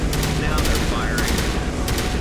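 Rapid bursts of gunfire from enemies in the Mass Effect 2 video game, several sharp volleys crackling over a dense battle din while players talk over it.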